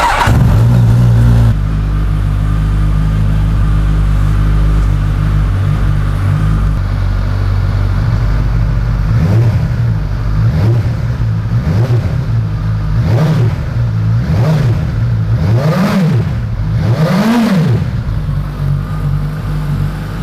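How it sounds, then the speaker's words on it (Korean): Suzuki GSX-S1000F litre-class motorcycle, its inline-four engine shared with the GSX-R1000, cranks over, catches and settles into a loud, steady idle, then is blipped several times in rising revs near the microphone, with no talk over it. "시동 한번 걸어 보겠습니다"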